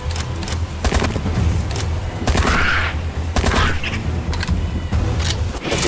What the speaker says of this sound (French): On va tirer sur quelques canards avec ton fusil de chasse.